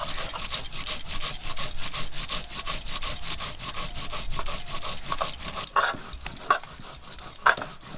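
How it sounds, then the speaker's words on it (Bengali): Whole cumin seeds are ground on a flat stone with a continuous rough scraping and rubbing that holds steady and close for several seconds. A few sharper knocks come near the end. "গোটা জিরে বেটে নেব।"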